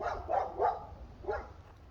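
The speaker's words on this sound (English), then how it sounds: "Sorry about my dogs barking." Several dogs bark in a quick burst, a few sharp yaps close together, then a pause and one more bark, muffled and moderately distant.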